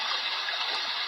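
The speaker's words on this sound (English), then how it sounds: "Here's a waterfall." A waterfall sound effect plays from a moon lamp's Bluetooth speaker: a steady, dense rush of falling water, even and unbroken throughout.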